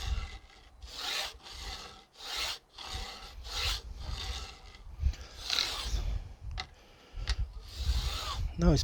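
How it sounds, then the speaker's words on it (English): A hand file rasps back and forth over guitar fretwire ends during a refret, giving quiet, close, rhythmic strokes roughly every half second with brief pauses between passes. "Now it's become easier to file"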